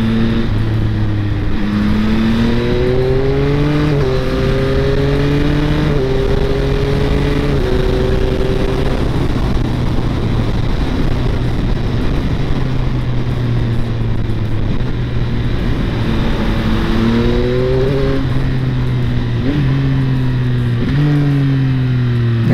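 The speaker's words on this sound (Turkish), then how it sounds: "Vites küçültürken motor ara gaz veriyor." A 2023 Yamaha XSR 900 engine revs in repeated quick throttle blips as it shifts down, running loud and steady with rising and falling pitch.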